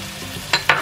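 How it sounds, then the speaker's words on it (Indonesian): Cashews being stirred into sautéed garlic in a frying pan, two quick scraping strokes over a low sizzle. "Kita aduk rata"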